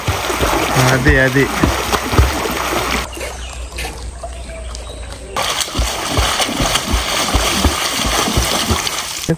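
Water splashes and sloshes steadily in a resort swimming pool about six feet deep in Wayanad, Kerala, with voices talking over it throughout.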